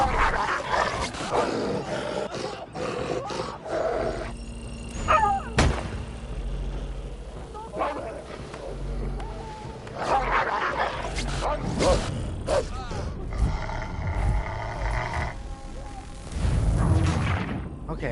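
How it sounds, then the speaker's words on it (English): Several dogs barking in the game History is Alive, sharp yips and barks scattered among loud bangs and game noise, with voices shouting at times. "I gotta figure out how to get away from the dogs."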